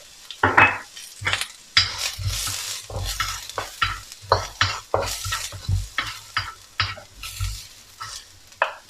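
Garlic sizzles in hot oil in a wok at the start of a Thai stir-fry of morning glory and minced pork, while a spatula scrapes and clatters in quick, rhythmic strokes, close and loud.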